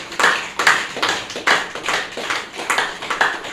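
An audience at a yoga lecture applauds, giving a steady patter of claps with sharper individual slaps throughout, close and moderately loud.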